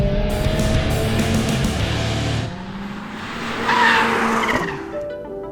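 A VW Golf R hatchback drifting, its tires squealing in a long sustained skid over a steady engine drone, loud and close, easing briefly before a second squealing surge.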